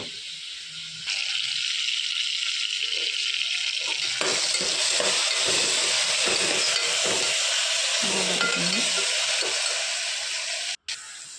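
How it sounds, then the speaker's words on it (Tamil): A spoon stirs a salted tomato mixture for tomato rice in a hot pan, with scraping strokes over a continuous close sizzle and no talking. "நல்லா நம்ம ஃபஸ்ட்டு கிண்டிக்கலாம்"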